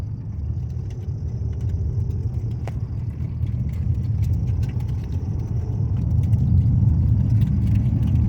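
A 7th gen Nissan Maxima drives down the road, heard from inside as a steady, low road and engine rumble that holds even and continuous throughout, with no talking.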